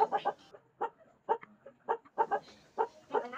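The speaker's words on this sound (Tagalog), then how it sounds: "ang ingay pa ng manok dito" Backyard chickens kept around a home cluck close by in short, repeated bursts with brief pauses between them, fairly loud and with no talk over them.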